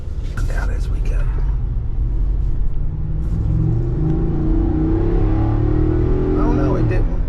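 A Ford F-250 with a Power Stroke high-output diesel rumbles deep and loud, rising into a rev that climbs steadily toward the end, heard close with a voice speaking over it.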